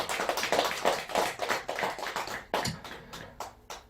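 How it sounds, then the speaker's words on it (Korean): A small temple congregation claps at a Buddhist dharma service, steady close hand claps in a loose rhythm that thin out toward the end, with no talk over them. "우리 큰 박수로 박수 한번 보내드리시죠"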